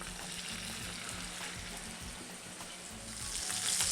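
Fish fillets frying in grapeseed oil in a pan, a steady close sizzle and crackle that holds throughout and grows slightly louder toward the end.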